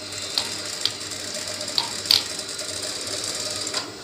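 A sewing machine stitches trousers in short bursts, with faint clicking mechanical ticks spaced irregularly over a low, steady background hum, fairly quiet and close.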